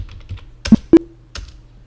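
Fee entries typed on a computer keyboard in accounting software: a few soft key taps followed by two sharp, louder keystrokes, close up and alone in a quiet room.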